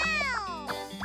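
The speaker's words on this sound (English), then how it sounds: "Cat!" A cartoon cat gives a single drawn-out meow with a falling pitch, close and clear, lasting about a second with no speech over it.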